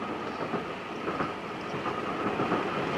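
A passenger train runs on rails toward Schweidnitz, a steady rumbling roll with faint rhythmic clicking of wheels over joints, continuous and moderately loud throughout.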